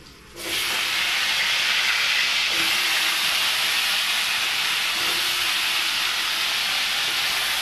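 Potato pieces frying in hot oil for a mixed vegetable curry, a sudden rise into loud, steady, dense sizzling hiss that continues evenly and close by, with no talking.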